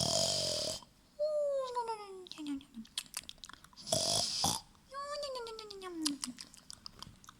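A reader's voice imitates the Gruffalo snoring during a children's story read-aloud, with drawn-out gurgling, falling snore-like noises repeated several times between short breathy pauses.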